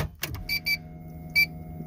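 Short high electronic beeps from a Turbo EG hatch as the key goes into the ignition, three quick chirps over a steady low hum in a quiet car interior.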